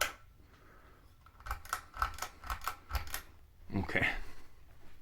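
Ceiling fan pull chains tugged by hand, a quick run of sharp metallic clicks and rattles in a cluster, then a louder clack and jingle, close and fairly quiet, with soft talking.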